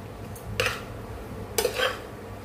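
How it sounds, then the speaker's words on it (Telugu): Metal spoon stirring chicken fried rice made with basmati rice in a pan, two short scraping clatters close up against a low background hum. "ఈ బాస్మతి రైస్ యాడ్ చేసిన వెంటనే కూడా ఇదంతా ఒకసారి బాగా కలుపుకుందాము"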